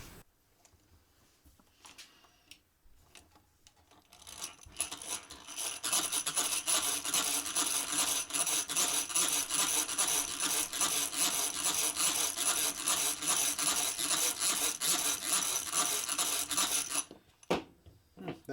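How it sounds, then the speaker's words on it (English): Dremel rotary bit grinding into a recycled stoneware coffee cup: after a few quiet seconds a steady, close, harsh abrasive buzz runs for about twelve seconds, then stops abruptly, with no talking. "but this is a Dremel bit."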